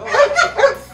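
An American bully dog, a mother of two puppies, gives three short, close whimpering yips in quick succession.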